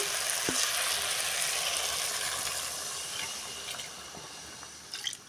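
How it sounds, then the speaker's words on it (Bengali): Water poured into a pan of sizzling spiced potatoes being cooked for a river sarputi fish curry: a steady broadband hiss and bubbling fry noise that slowly eases, with a few small clinks and splashes, no talk. "আলুটা ভালোভাবে মশলার সঙ্গে কষানো হয়ে গিয়েছে এখন দিয়ে দেব জল"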